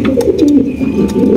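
Pigeons at a pigeon farm coo up close, making loud, low, throaty rolling calls that overlap continuously, with a few faint chirps in between.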